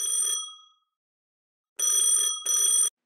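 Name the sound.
phone ringing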